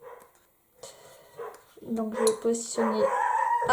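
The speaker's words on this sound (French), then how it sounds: "c'est le chien des voisins" A neighbours' dog barks in the background, several short yaps that grow louder toward the end, heard under someone speaking close by while she works on a papercraft card.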